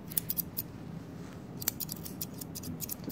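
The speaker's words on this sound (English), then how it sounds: "I'm gonna trim up the tip of his tail a little bit that we just couldn't get with the clippers." Scissors snip repeatedly through the tail-tip hair of an Airedale terrier during grooming, a series of crisp close metallic cuts in small irregular bursts, with no talking over them.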